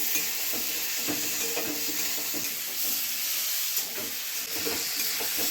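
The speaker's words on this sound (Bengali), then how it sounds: "মশলাগুলোকে অল্প একটু ভেজে নিয়েই এর মধ্যে টমেটো আর ডাঁটাগুলোকেও দিয়ে দিল।" Spices frying with tomatoes and drumsticks in a pan for a drumstick curry: a continuous bright sizzle and hiss with scattered crackles and light stirring scrapes, steady and close.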